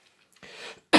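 A person coughs during a spoken podcast, a short throaty hack followed by a sharper, louder burst, close to the microphone with no talk.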